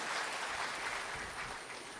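Audience clapping at a motivational speech, a steady wash of applause with no clear individual claps, continuous and fairly even throughout.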